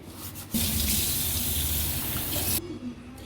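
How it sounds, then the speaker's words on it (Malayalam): Tap water gushes steadily into a sink while a stone cooking pot is washed with soap and a scrubber, the flow starting abruptly, running loud and close, then cutting off. "ഇനി ഈ കൽച്ചട്ടി നമുക്ക് നന്നായിട്ട് കഴുകിയെടുക്കാം ഞാൻ സോപ്പ് ഉപയോഗിച്ചിട്ട് തന്നെയാണ് കേട്ടോ കഴുകാൻ പോകുന്നത്"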